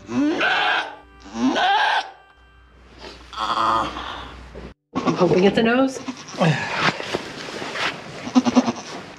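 A goat bleats repeatedly in a few loud, wavering cries, with people talking close by between and over the calls.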